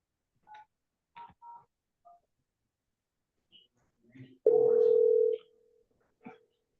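Telephone keypad tones as a number is dialed, several short separate beeps followed by a longer steady tone, with brief clicks and a little quiet speech around them.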